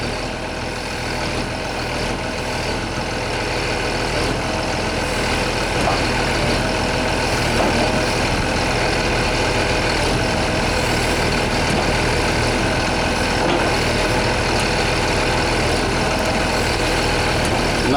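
A 1981 660D heavy machine's diesel engine runs at a constant, loud low drone for the whole stretch as the machine is raised up and down off the ground, with no talking.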